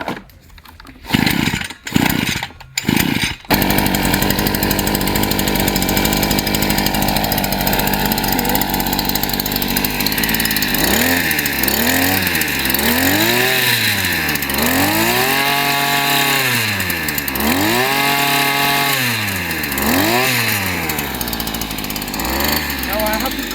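Hyundai 52cc petrol 5-in-1 garden tool engine, a few sharp pull-start bursts, then catching into a loud continuous two-stroke drone that rises and falls through repeated revving, close up.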